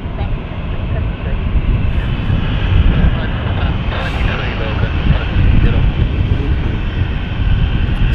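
A BA CityFlyer Embraer jet holds short at London City Airport, its engines a loud, steady broadband roar that fills the whole stretch while a voice talks over it.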